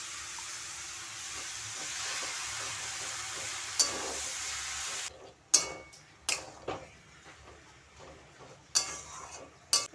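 Boiled mung dal added to Malabar spinach greens cooking in a pan: a steady soft sizzle and hiss, then scattered sharp clinks and knocks of a utensil as the mixture is stirred, fairly quiet throughout.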